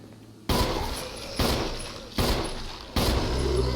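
Pistol shots in Resident Evil fired at zombies, four sharp loud bangs spaced roughly a second apart, each ringing out briefly before the next.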